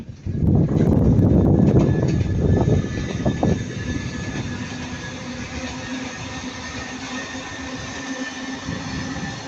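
A Northern Class 331 electric passenger train on the Liverpool Lime Street to Manchester Airport service passes at Ardwick, a loud close rumble and wheel clatter at first that settles into a steady, fading roar.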